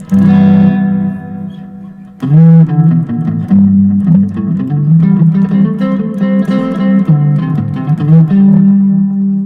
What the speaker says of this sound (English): Let's do what's this? Modulated reverb.